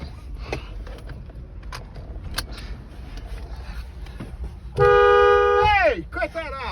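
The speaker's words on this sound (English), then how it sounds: "Don't honk the horn." A car horn gives one loud, sustained honk lasting about a second near the end, after scattered voices and small handling noises in and around a vehicle.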